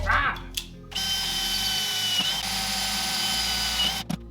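A power drill fitted with a step bit bores a hole for a riv nut on a 1954 Chevrolet Bel Air rat rod, a steady whirring grind of about three seconds after a short start-up burst.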